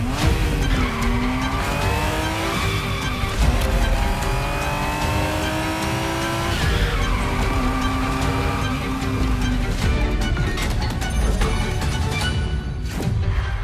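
Ferrari Testarossa engine in The Crew Motorfest: a loud, close engine revs up and down through gear changes while tires squeal and skid, steady and continuous.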